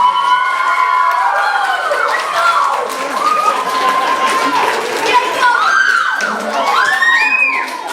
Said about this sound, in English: give your parents and family a big round of applause for all of that